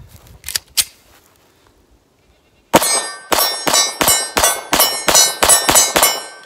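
A Taurus PT92 pistol fires Federal hollow point self-defense ammunition. Two soft pops come first, then after a pause a loud, rapid string of about ten sharp, ringing shots follows in an even rhythm.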